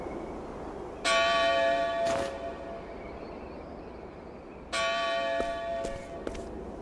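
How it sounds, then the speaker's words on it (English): A large church bell called the Bell of Dawn in the video game Octopath Traveler II rings out in two loud, resonant strikes, each with a bright metallic attack and a long ringing tail, separated by a few seconds of fading hum. "That's the Bell of Dawn."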